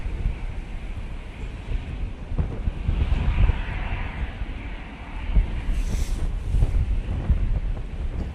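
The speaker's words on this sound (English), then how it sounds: "That breeze has just gone up a bit." Steady breeze buffeting the microphone outdoors at Manchester Airport, a rough low rumble that swells and eases in gusts, stronger around the middle and near the end, with no talk.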